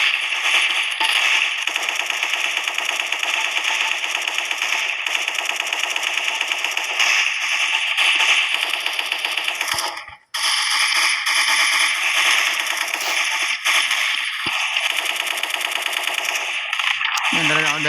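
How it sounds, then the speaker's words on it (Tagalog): Gatling gun in a video game fires in long, continuous, loud rapid bursts, with a brief pause midway before the firing resumes. "Itong Gatling gun na to guys, karat bala na ito."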